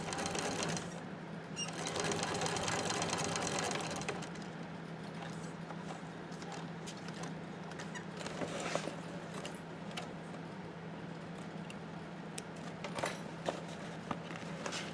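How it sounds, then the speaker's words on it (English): A sewing machine runs in steady rapid bursts of stitching, pausing and restarting, with faint handling clicks and rustles between runs. "now I'm going to take you back over to my main sewing machine"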